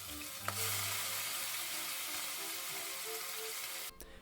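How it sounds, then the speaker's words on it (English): Steady, loud sizzling of chicken frying in hot oil in a pot, a constant crackling hiss that runs almost the whole time before cutting off near the end. "place your chicken in the pot and listen to that sizzle"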